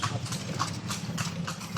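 Hooves of a horse pulling a kalesa clip-clop on a town street in Ilocos Sur, a steady, close rhythm of sharp hoof strikes over faint background noise.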